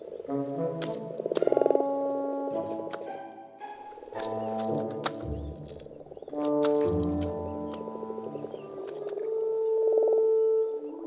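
Frogs in spring mating season call in a dense, continuous chorus of overlapping croaks and trills, fairly loud and steady throughout.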